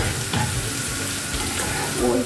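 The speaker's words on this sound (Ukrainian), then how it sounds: "Смажимо." Chopped onion and carrot sizzle and crackle in a hot frying pan, a loud continuous fry with a few stirring scrapes.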